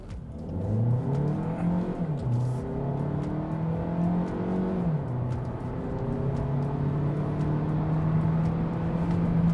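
A Hyundai Avante hybrid engine strains under hard acceleration in eco mode, its droning hum climbing in pitch, dipping briefly at a shift, then settling into a steady, loud whine.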